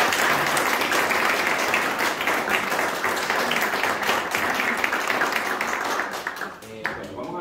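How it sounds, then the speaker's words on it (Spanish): Sustained applause from a concert audience at a university piano and cello recital, dense and steady throughout before thinning near the end, with faint voices underneath. "un aplauso para ti."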